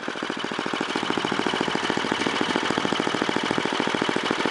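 A Tecumseh Snow King 10 horsepower snowblower engine runs steadily up close, its loud, rapid, even chugging firing pulses holding a constant idle-like rhythm with no talking.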